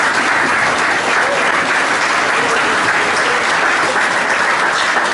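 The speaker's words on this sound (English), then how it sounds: "Big round of applause for Dave, local lad." An audience at a rugby league club presentation evening applauds a sponsor, a loud, dense, steady round of clapping that fills the whole stretch without a break.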